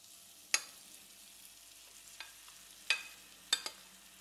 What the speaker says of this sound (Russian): И будем жарить на среднем огне в течение 5 минут.